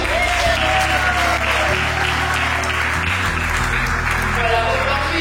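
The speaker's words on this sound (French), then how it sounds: "Est-ce qu'on peut l'applaudir?" An audience breaks into sustained, loud applause for a child at a festive school-supply distribution event, the clapping dense and steady throughout with a low musical hum beneath.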